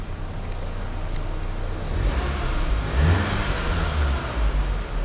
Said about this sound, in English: It's an inline 4-cylinder turbocharged engine, produces just a touch over 300 brake horsepower.